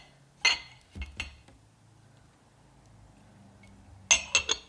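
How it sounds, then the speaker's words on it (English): Ceramic cups and a tea kettle clink as they are set into a holiday gift basket, a few sharp knocks early on, then a quick cluster of three clinks near the end, close and fairly quiet with no talk. "I'm first going to start with the tea kettle, and then I'm going to add my cups."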